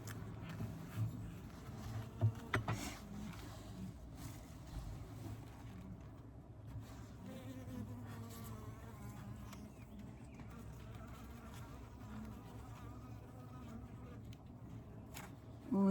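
Honey bees hum quietly around an open 20-frame Layens hive during an inspection. The buzzing is soft, steady and close, with occasional bumps and handling noises.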